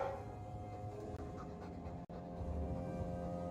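A Mabari war dog in Dragon Age II pants steadily and softly, a continuous breathy rhythm over a low hum with one brief cut midway.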